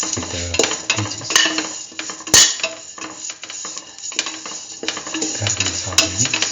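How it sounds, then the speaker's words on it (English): Vermicelli pasta and peaches being sautéed and stirred in a pan, with irregular scraping and clinking of a utensil against metal, a soft sizzle beneath, and one sharp clatter partway through. "Put it in and saute the vermicelli pasta thoroughly with the peaches."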